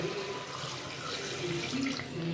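Water pouring steadily into a pressure cooker holding mutton in masala of ginger-garlic paste, onion and tomato, a continuous quiet splashing rush without pauses or talk.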